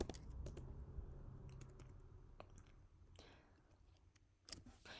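Keys tapped on a computer keyboard, scattered irregular clicks at moderate-to-faint level over a soft room background, no voices.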